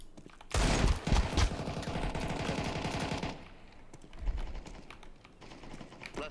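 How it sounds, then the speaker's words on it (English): Rapid automatic gunfire in Counter-Strike 2, a loud dense burst of shots lasting about three seconds, followed by fainter game noise and a single thump. "Why he shoot 2 bullets if he knows that he need to go back and reload?"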